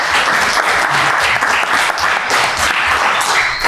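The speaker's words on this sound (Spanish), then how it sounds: "Démosle un aplauso de nuevo a Pablo y a Emanuel." A studio audience applauds podcast hosts with loud, sustained clapping that carries evenly through the whole stretch, with no voices over it.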